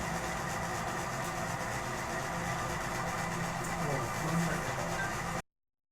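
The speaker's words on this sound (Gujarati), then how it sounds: "આ ટ્રેક્ટર આવી ગયો" A tractor engine idles nearby, a steady, low, continuous rumbling drone that cuts off abruptly near the end.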